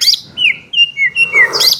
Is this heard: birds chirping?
yes